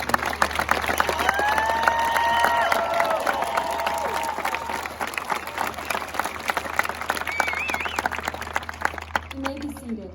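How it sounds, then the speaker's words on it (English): Sustained applause and crowd noise from an audience honoring the senior class at a Legend High School graduation ceremony, steady clapping throughout with some whistles and cheers early on. "Let's give one last round of applause for the senior class and their amazing accomplishments."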